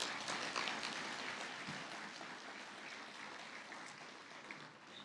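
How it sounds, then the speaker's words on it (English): Audience at the Los Angeles Police Museum Gala applauding, a soft, distant wash of many hands clapping that gradually thins and fades, with no voices over it. "So I want to give you a big round of applause as well."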